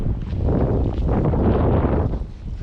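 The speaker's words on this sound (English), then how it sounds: "That wind is really picking up now." Strong wind blowing over the French River during a Sea-Doo outing, a loud steady rushing buffet of wind noise across the microphone with no voices.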